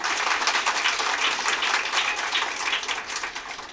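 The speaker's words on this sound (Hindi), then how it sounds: "एक बार ज़ोरदार तालियां इनके लिए" Steady applause from an audience honouring women workers at an International Women's Day felicitation and prize-giving event, dense and continuous clapping throughout with no voices over it.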